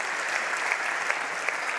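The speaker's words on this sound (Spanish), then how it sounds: "Un aplauso para Francisco." A conference audience applauds a speaker with an even, moderately faint wash of clapping and a few sharper claps standing out.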